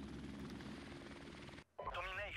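Helicopter in the video game Modern Warfare Remastered, a steady loud rotor chop with engine whine running throughout, cutting out briefly near the end before game voices and radio chatter come in.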